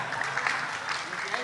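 An audience claps for Kiai Haji Agus Ali Mazhuri in a brief, dense burst of applause, moderately close, with voices mixed underneath.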